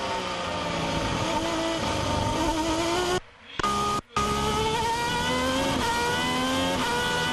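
A 2011 Superleague Formula race car engine screams at high revs through the Zolder chicane, dropping briefly as it brakes and downshifts, then climbing again through rapid gear changes, loud and close.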